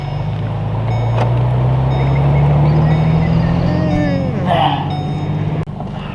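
A lowered Ford FG Falcon sitting on coilovers pulls away, its engine droning steadily and rising slightly in pitch as it drives off, loud and close with a faint high whine above.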